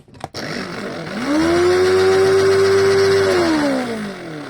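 A Moulinex T71 electric food chopper spins up after a click, holds a loud, steady high-pitched motor whine for about two seconds, then winds down as it is switched off.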